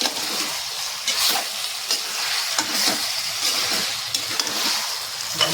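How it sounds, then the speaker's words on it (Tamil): Chicken pieces stirred in a pot for chicken biryani: loud close sizzling with a regular rhythm of scraping, sloshing stirs about once a second. "பீஸ் போட்ட பிறகு நல்லா கிண்டி விட்டினா தான் நல்லா வேகும்."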